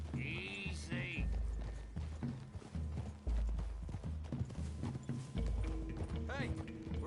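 Horse hooves clip-clop in the Red Dead Redemption 2 video game as several riders move slowly through trees, with a steady rhythmic plodding beneath game music and occasional voices talking.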